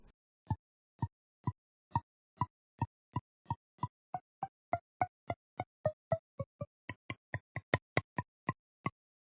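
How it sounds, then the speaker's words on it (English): Fingers tap the tone holes of an Irish whistle in a close, dry series of about thirty soft percussive knocks. They come at a steady pace at first, then quicken and shift in pitch toward the end. "This is the sound of the musician's fingers tapping against the holes on the instrument."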